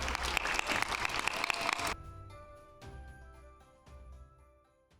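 Audience applause for the host at a Chinese Spring Festival celebration, a dense burst of clapping that stops abruptly after about two seconds, followed by quieter sparse sounds.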